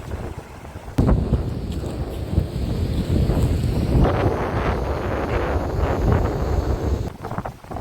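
Strong wind gusts roar steadily across the microphone at the seaside in Odesa, a loud broadband rush with rumbling buffeting and no speech.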